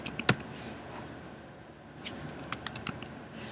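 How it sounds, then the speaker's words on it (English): Scattered keystrokes on a computer keyboard click as an email address is entered, a sharp tap early on, then a quiet pause and a quick cluster of close, crisp taps, with no one speaking. "I do that by typing their email address."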